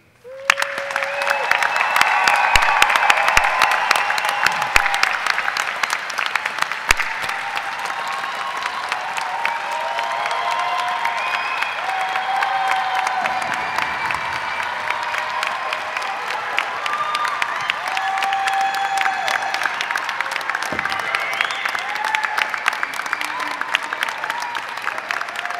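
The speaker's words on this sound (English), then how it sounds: "one round of applause is not enough" A large audience at a December 2019 graduate commencement ceremony keeps applauding in a long, steady roar of clapping, broad and sustained throughout, with faint cheers and voices mixed into the crowd.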